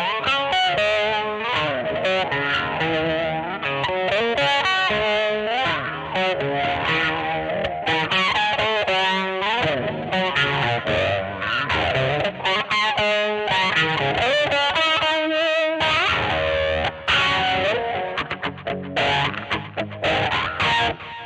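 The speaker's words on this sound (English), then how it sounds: "So let's say you want to add like a wah pedal to the sound" An electric guitar plays through a wah pedal effect, a continuous loud distorted tone that sweeps up and down throughout, with no talking.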